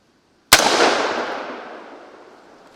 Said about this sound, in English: Let's take our first shot here.